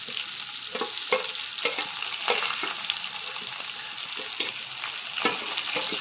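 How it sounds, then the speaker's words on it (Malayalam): Chopped onion sizzles in a pan for an ivy gourd leaf thoran, a steady close-up frying hiss broken by soft scrapes of stirring. "ഈ ഒരു സമയം നമുക്കിതിലേക്ക് അരിഞ്ഞു വെച്ച സവാള ചേർത്ത് കൊടുക്കാം."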